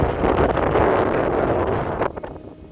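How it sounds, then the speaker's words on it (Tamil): Strong sea wind on a ship's deck buffets the microphone in a continuous loud roar, with gusty surges that ease slightly near the end. "காத்தடிக்குது."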